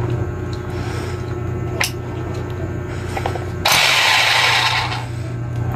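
An electric hammer runs with a steady mechanical rattle and hum, then a louder, harsher burst of hammering near the end, heard close and alone without speech.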